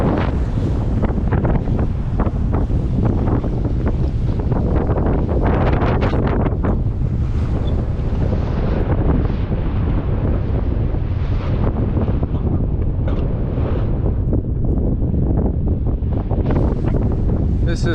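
A sailboat at sea in a building swell off the remote Bahamas: constant loud wind buffeting the microphone, with waves rushing and slapping against the hull throughout.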